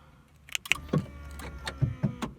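Aftermarket remote central locking kit actuators on a car, a few quick mechanical clunks and clicks in the rear, fairly close, over a low steady hum with no talking.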